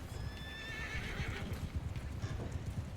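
Horses in the video game Mount & Blade II: Bannerlord give a loud whinny over rapid galloping hoofbeats that drum steadily underneath through the whole short burst.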